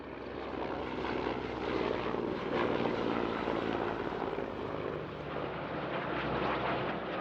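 Military jets taking off in close formation at the RIAT 2022 airshow, a sustained loud engine roar that rises and falls gently as the aircraft pass, with no voices.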